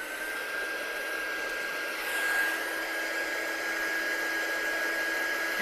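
A hair dryer blows steadily on wet watercolour paint on a handmade stamped card, a continuous close whoosh with a thin whine that holds level throughout with no talking.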